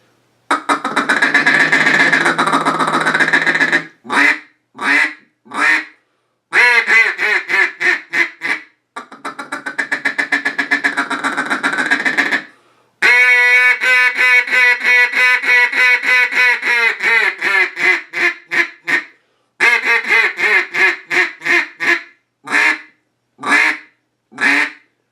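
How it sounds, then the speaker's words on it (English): A double reed Super Timber duck call blows loud, close hen quacks in strings and long sustained calls, alternating steady feeding runs with choppy single quacks, no talking. "a little sound file of what this double reed Super Timber sounds like"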